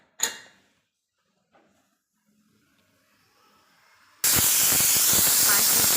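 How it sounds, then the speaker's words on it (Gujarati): A pressure cooker cooking khichdi with green peas lets out a sudden loud, sustained hiss of steam after a few quiet seconds with a brief clank near the start; the whistle blast holds steady to the end. "કુકરનું ઢાંકણ બંધ કરી 5 વિસલ થવા દઈશું"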